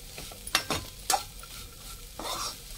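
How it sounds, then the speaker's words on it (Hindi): Onions and green chillies frying in a pan as a spatula stirs them, with a few sharp scraping strokes and a soft sizzle underneath, close and moderately quiet. "और इसमें डालेंगे प्याज और हरी मिर्ची, इसको भी मिक्स कर लेंगे।"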